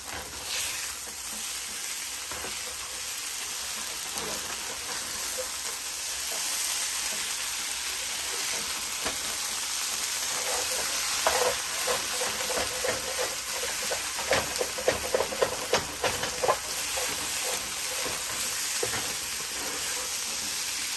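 Hash browns seasoned with smoked paprika and salt fry in oil in a pan, a steady close sizzle that grows busier and crackles with sharper pops in the second half.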